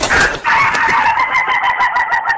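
A rooster in a village yard lets out a single long crow, loud and close, drawn out for about two seconds after a brief burst of clucking.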